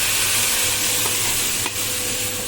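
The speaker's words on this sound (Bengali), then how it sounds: "এবার আমি লাউটা দিয়ে দিচ্ছি।" Chopped bottle gourd goes into moong dal frying in a pan and is stirred, giving a loud, close, continuous sizzle with a brief scrape partway through.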